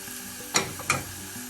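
Turmeric powder fries in oil with chicken liver, a soft, continuous sizzle with two brief scraping stirs of a spatula, close and quiet.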